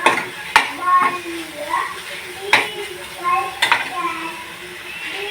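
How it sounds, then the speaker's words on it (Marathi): Whole spices for masale bhat are stirred in a hot pan, with sharp utensil clinks against the metal over a soft, steady sizzle and a voice talking in the background. "मसाले परत मिनिटभर परतून घ्यायचे।"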